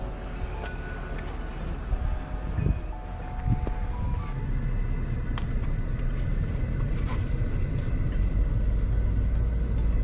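A car rolling along a city street, steady low engine and road rumble from inside the cabin, with faint passing traffic and a few short tonal beeps, no talking.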